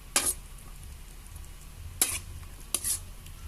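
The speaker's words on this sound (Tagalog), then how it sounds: "Haluin ang haluin, umitas-metas, hanggang sa mag-mix ang ating mga sangkap." A spoon stirs chicken feet kaldereta ingredients in a pan with tomato sauce, the mix sizzling quietly while three sharp metallic scrapes and clanks stand out against the pan, close and alone without talk.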